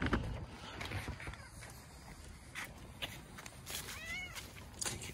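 Black cats meowing a few times, faint and somewhat distant, over a noisy background with occasional soft footsteps.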